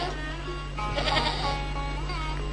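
Goats bleat in several wavering calls over a steady low electrical hum, fairly close and clear, with no talking.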